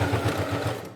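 A sewing machine stitches through clear crystal plastic fabric for a pouch, a close, steady rhythmic whirr with a pulsing needle beat that runs for the whole moment, then fades slightly at the end.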